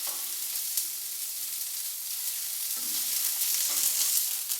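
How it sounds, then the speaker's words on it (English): Meat sears in a hot cooking pan with a steady, bright sizzle and crackle, close and fairly loud, swelling slightly in intensity toward the end with no voices. "I'm going to add them to the final cooking pan"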